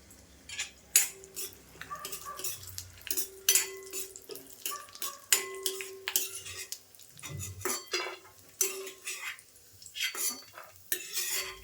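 Metal spoon scraping and clinking against a pan as ingredients for sweet Makar Sankranti sheera are roasted and stirred, an irregular run of close, sharp clatters and scrapes with faint sizzling beneath.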